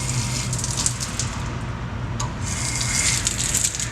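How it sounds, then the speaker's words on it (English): Water gushes loudly and continuously from the open test cocks of a Zurn Wilkins 950XL double check valve assembly as they are flushed of debris, with a brief dip in flow partway through. "The first step to testing our DCVA is to flush and clean any debris from our test cocks."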